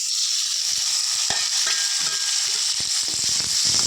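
Onions and tomatoes sizzle and fry in a pan for a goat brain roast, a steady close hiss with occasional stirring scrapes and pops, no talking.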